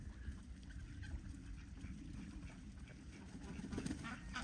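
Geese on a small Canadian farm in winter give scattered honks and quacking calls against a low, steady outdoor rumble, the birds sounding moderately distant and not very loud.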